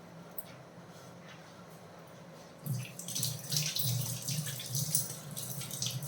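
Tap water pours into a sink as hands are washed after mixing healthy ladoo, starting abruptly after a quiet stretch of room tone and continuing as a steady, close splashing flow.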